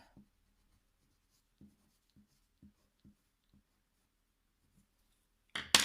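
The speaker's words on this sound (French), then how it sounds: "On va reprendre la couleur la plus foncée, donc moi c'est le 118 pour dessiner le contour de la flamme." A dark colored pencil, shade 118, traces a flame outline on thick, coarse-grained drawing paper. It makes faint, spaced scratchy strokes, then a sudden loud burst of noise at the end.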